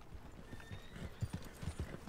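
A horse's hooves clip-clop in Red Dead Redemption, a faint, steady rhythm of hoof strikes heard alone and growing slightly firmer toward the end.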